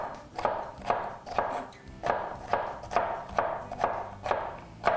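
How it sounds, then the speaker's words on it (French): Knife chopping pickled cornichons on a cutting board, a steady series of about ten sharp thuds at an even pace, fairly close and moderately quiet with no talking. "Là, je vais hacher aussi les cornichons."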